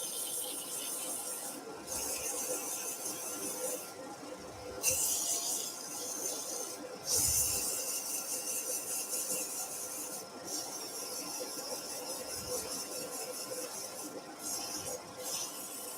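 Driftwood is sanded by hand with 100-grit sandpaper, giving close, steady scratchy rubbing strokes in long runs broken by brief pauses, with no talking.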